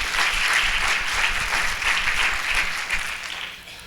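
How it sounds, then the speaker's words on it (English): A school district audience applauds, many hands clapping together in a loud, sustained burst that swells and fades slightly toward the end. "So big round of applause for a lot of our community businesses."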